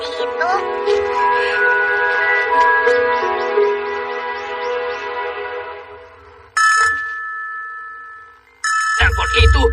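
A telephone rings in a Doraemon cartoon scene, a steady electronic ring over background music, cutting off and then returning in two short bursts.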